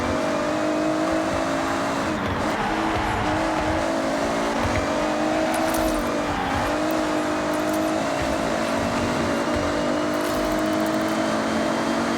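A muscle car's engine drones steadily in the Forza Horizon 6 racing game, holding a loud, continuous tone with small shifts in pitch as the car drives, and no pauses or talk.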